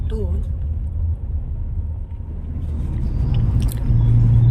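Vehicles run along the smooth road of the Atal Setu bridge, a low continuous rumble of tyres and engines that grows louder toward the end, with a voice talking over it.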